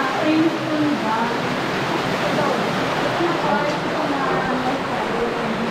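Water falls steadily inside the rainstone bath of Su'bon Cave in Asbang, Matanao, Davao del Sur, a continuous close, even rush of spray and splashing that fills the whole stretch with little change in level.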